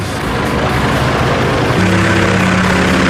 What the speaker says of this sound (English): the in-game sound in World of Warplanes depends on the camera angle, distance, and the engine's operating modes